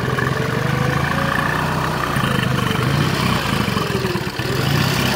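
A 1952 Triumph TRW 500cc motorcycle idles with a steady, close clattering exhaust beat that stays loud and even throughout, with no talk over it.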